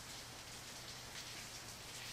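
Steady rainfall in the visual novel Angels With Scaly Wings, an even hiss of drops pattering on a surface, quiet and continuous with no voices.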